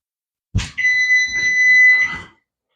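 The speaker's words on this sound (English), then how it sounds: "turn that timer off" A kitchen timer beeps while pumpkin peanut butter dog treats bake, giving a sharp click and then a shrill, steady electronic tone for about a second and a half before it cuts off. The beep is close and loud.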